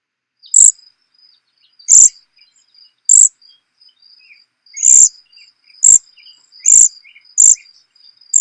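A cedar waxwing gives its high-pitched trill call, thin, piercing notes repeated about eight times at irregular intervals, clear and close against a quiet background.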